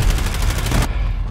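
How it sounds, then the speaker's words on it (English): A sniper rifle fires in a Modern Warfare video game campaign, a loud close blast with a dense, rolling report that cuts off abruptly partway through. "I just sniped a guy."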